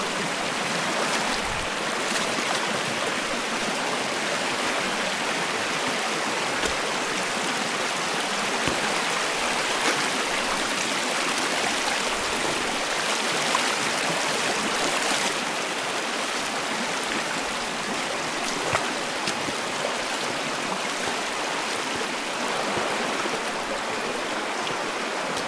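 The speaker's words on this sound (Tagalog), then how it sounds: "Malakas alon dito, ano, agos dito ha." Steady broadband rushing of a strong river current on a mountain hike, continuous and fairly loud throughout with no voices.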